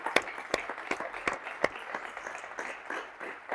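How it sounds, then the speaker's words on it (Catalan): Modest audience applause at a book presentation in Catalonia, a few sharp claps standing out over a thin, scattered patter that fades toward the end. "un aplaudiment també per aquest"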